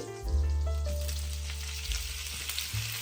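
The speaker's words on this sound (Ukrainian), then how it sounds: "цибулька смажиться, бачите, вона собі потихеньку карамелізується" Steady frying sizzle of onions caramelizing in a pan for French onion soup, loud and close, with a continuous crackling hiss and low hum, no talking.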